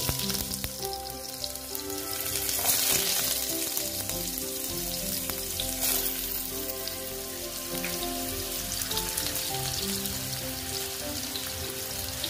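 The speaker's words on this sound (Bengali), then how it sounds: "আলুগুলো দিয়ে একটু ভেজে নিচ্ছি।" Potato pieces frying in hot oil in a pan after the tempering spices, a steady, dense sizzle that carries on close and loud with no pauses and no voices.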